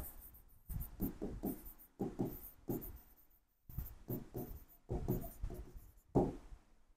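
Marker or chalk strokes scratch across a board in short bursts separated by brief pauses, close and fairly quiet, with no voices.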